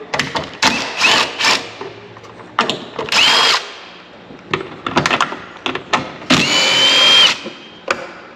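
Short bursts of a power tool with a 10mm socket backing out tail light bolts on an 84-96 Jeep XJ Cherokee, loud close whirring spurts separated by clicks and knocks of handling.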